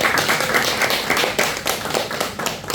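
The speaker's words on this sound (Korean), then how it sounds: "박수 한번 드리도록 하겠습니다." A church congregation claps in thanks for a donor of altar flowers, a dense patter of many hands close by, steady and unbroken for a few seconds.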